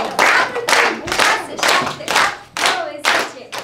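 A group of children clapping hands together in loud, sharp unison bursts, about seven strong claps with short pauses between them, close and clear.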